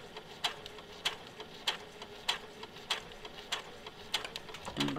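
A sewing machine stitches a seam on a drawstring bag, giving a regular series of crisp ticking clacks at an even, unhurried pace over a quiet room background.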